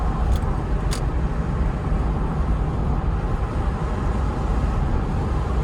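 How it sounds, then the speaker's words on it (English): A 1990 Jaguar XJS V12 accelerating on the road, a steady low engine drone with road and wind noise heard from inside the car, constant and fairly loud. "I got to drive around in the XJS V12, which really wasn't all that much of a bad thing"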